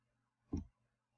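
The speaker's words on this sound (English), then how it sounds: "I'm going to click next." A single soft, close click from a computer mouse in a quiet room, brief and isolated with no talk.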